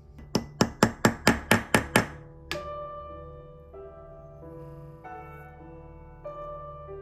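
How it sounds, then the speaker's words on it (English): A balance wheel being tapped onto a new staff during a Hamilton railway pocket watch repair gives eight quick, evenly spaced metallic taps, followed by a faint ringing tone and a couple of soft clicks. "The balance wheel is gently tapped onto the new staff."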